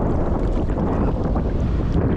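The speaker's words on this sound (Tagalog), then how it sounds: "mas malakas pa yung hangin" Strong sea wind at low tide roaring steadily across the microphone on a fishing trip, a loud continuous rumble with a faint hiss of water beneath it.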